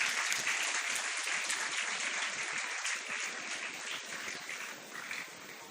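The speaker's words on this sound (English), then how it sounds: "Everybody, a round of applause for all those Sanskrit students." An audience at a school felicitation ceremony claps for Class X Sanskrit students, a brisk, continuous patter of many hands held at a moderate level and easing slightly near the end.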